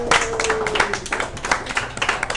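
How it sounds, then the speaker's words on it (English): Sports bar patrons applauding a guest at a live on-location broadcast, a small group clapping unevenly at close range, with individual claps standing out and a brief sustained tone early on. "So please give a warm round of applause to Alicia Sparks."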